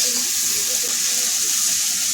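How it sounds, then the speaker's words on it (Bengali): Spicy Bengali yardlong bean curry (borboti chorchori) sizzles in a pan with a steady, even hiss of frying that runs unbroken throughout. "ও, এটা কি বরবটি চচ্চড়ি রান্না হচ্ছে মা?"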